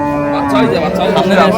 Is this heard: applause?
no